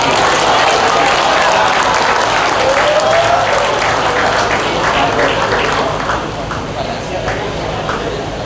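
Audience applause at a gathering honouring poet D. Zawawi Imron: dense, loud clapping from a sizeable crowd, sustained throughout and easing slightly toward the end.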